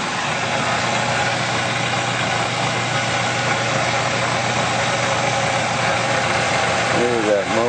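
An engine runs at a loud, steady idle close by, with a constant low hum throughout and a voice speaking briefly near the end.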